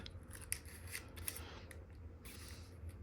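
Scissors trim a clear plastic dome for an FPV plane, several quiet, close snips and crisp cuts over faint background hiss.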